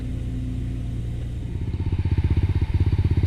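Small lawn tractor engine idling low at first, then settling into a loud, rapid, even chugging pulse near the listener, heard alone without talk.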